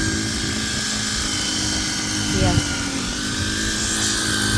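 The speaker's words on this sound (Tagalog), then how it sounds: "grass cutter." Grass cutter running outdoors near a small hut, a steady buzzing drone throughout with a brief rise in the middle, heard under someone talking.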